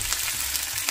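Garlic and onion fry in a pan for tortang bittergourd, giving a brief, dense, close-up sizzle with faint stirring, no speech.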